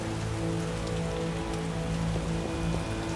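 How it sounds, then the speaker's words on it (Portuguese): Steady rain falls in the video game The Witcher, a dense even patter of drops on surfaces, constant and moderately loud, with a faint hum of background game music underneath. "já tá chovendo de novo, mano."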